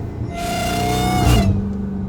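Stock Dodge Hellcat revving hard, its supercharger letting out a loud, rising high-pitched whine over the engine roar for about a second before it drops away to a lower rumble.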